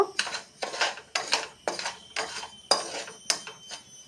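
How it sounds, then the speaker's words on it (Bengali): A bowl of sugar is tipped into a pot for mango juice, heard as a quick run of about eight short rustling, tapping bursts, close up with no talk. "এটাতে দিয়ে দিচ্ছি এক বাটি চিনি"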